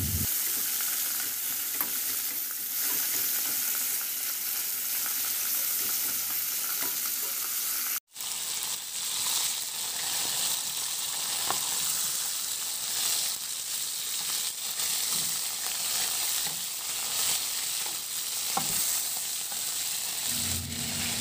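Chicken pieces browning in a frying pan, a steady close sizzle that runs the whole time with a brief cut partway through and faint stirring scrapes.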